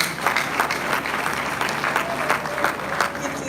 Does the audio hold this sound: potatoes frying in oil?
no